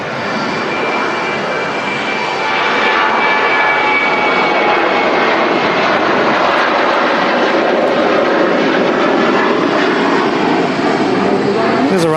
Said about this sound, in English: just as the Vueling taxis past us here at the Runway Visitor Park